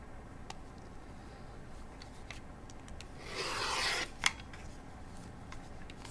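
Scissors or a rotary cutter slice through fabric being trimmed for a bowl cozy, a short soft rasping cut after faint ticks, followed by a sharp click, quiet and close.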